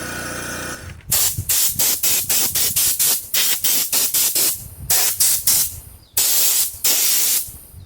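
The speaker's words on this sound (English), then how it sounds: "we can use a spray rather than the brushes" Repeated bursts of hissing sealant spray on welded foundation forms, each about a quarter to half second long, come in an irregular rhythm, loud and close, with longer sprays toward the end.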